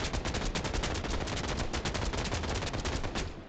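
Continuous automatic gunfire from FF7: First Soldier, a rapid, dense stream of shots running loud and unbroken for the whole stretch with no pause between rounds.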